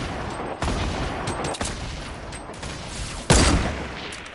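Sporadic gunfire in a video game: a few sharp, loud shots spaced apart over steady background noise, with the strongest blast near the end.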